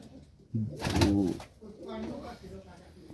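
Pigeons coo in short throaty bursts, close by, with a voice speaking briefly alongside.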